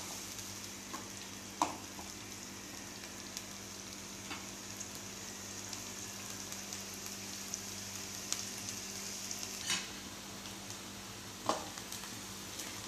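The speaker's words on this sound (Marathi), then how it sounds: "कांदा असं व्यवस्थित लाल होईपर्यंत असं परतून घ्यायचं छान" Chopped onion sautéing in a pan until reddened, a steady soft sizzle running throughout with a few brief clinks of a stirring spoon, quiet and close with no one talking.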